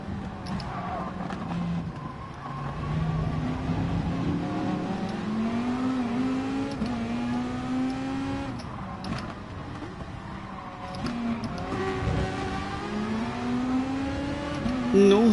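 A pack of race cars in GT Sport drones continuously, engines rising and falling in pitch as they rev and shift, a dense, steady roar with a voice faintly beneath it.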